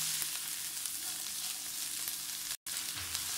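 Capsicum, carrot and other vegetables sautéing in a pan, giving a steady close hiss of frying that runs unbroken for a few seconds.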